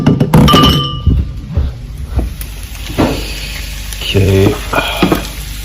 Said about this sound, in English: now dump your eggs into the side of the pan. And just let that cook for a bit.